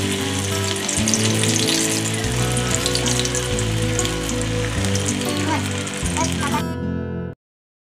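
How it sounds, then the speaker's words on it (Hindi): Moti vada frying in oil over medium heat, a dense, steady sizzle with fine crackling that runs loud and unbroken under background music, then cuts off abruptly near the end. "मोती वड़ा को हम मीडियम आंच पे फ्राई कर लेंगे।"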